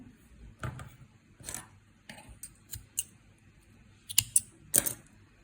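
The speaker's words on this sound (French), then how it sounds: "Là, on coupe le fil." Scissors snip crochet yarn in a series of short, sharp cuts at irregular intervals, the close, crisp clicks growing denser toward the end against a quiet background.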